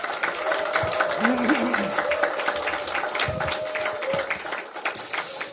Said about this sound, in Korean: 우리 양승조 우리 형님한테 큰 박수 한번 보내주시기 바랍니다.